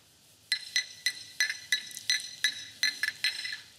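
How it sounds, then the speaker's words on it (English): Coins clink into a cup in a quick run of about ten bright metallic chinks, evenly spaced and close, with no voices. "That's the sound of a coin in a cup."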